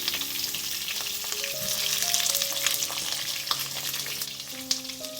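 Stuffed bitter gourds (karela) frying in a pan over a medium-low flame, a continuous close sizzle with soft crackles and some faint tonal hum underneath.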